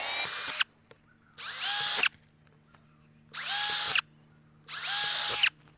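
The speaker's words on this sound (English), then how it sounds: "we can just drill these holes out completely" Power drill boring holes through a Toyota LandCruiser grille that has been removed from the car, four loud, close high-pitched bursts of about a second each with short quiet pauses between them.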